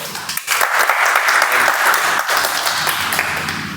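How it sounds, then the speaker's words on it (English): An audience at a Toastmasters meeting applauds after an icebreaker speech, a dense burst of clapping that starts abruptly and holds steadily before easing off slightly. "Round of applause for him."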